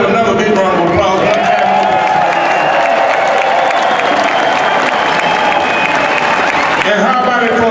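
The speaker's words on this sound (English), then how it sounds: "So he deserves another big round of applause." Crowd applause and cheering fill an outdoor pavilion at the Chicago Blues Festival during a centennial tribute, a steady loud wash of clapping with faint voices and music tones beneath, swelling then easing near the end.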